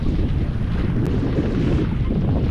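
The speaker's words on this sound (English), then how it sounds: "We're getting quite decent gusts of up to sort of 22 knots now and then" Wind gusts roar steadily across the microphone aboard a sailboat under way in gusts up to about 22 knots, a constant low rushing buffet with water and hull noise beneath, no voices.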